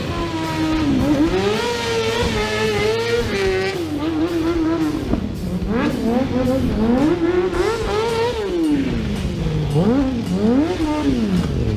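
A stunt motorcycle with no crash cage howls through a drift demonstration, its engine revving hard in rising and falling sweeps, loud and close throughout, with repeated throttle blips and a sustained scream.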